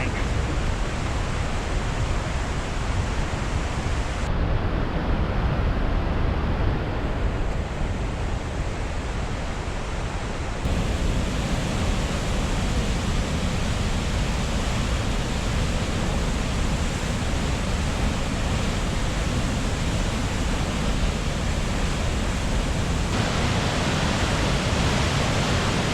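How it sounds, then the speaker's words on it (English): A waterfall on Minnesota's North Shore rushes through a narrow chute, producing a loud, close, broadband roar of churning water that continues unbroken for the whole stretch. "hopefully you can hear me because, wow, that water is really moving"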